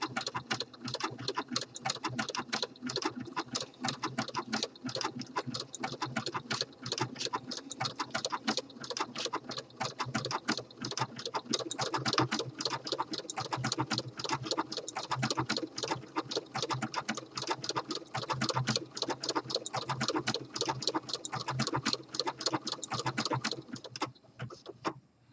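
A home sewing machine runs a decorative stitch along elastic, a steady rapid ticking needle rhythm held at an even moderate pace for the whole stretch, close and clear, stopping just before the end.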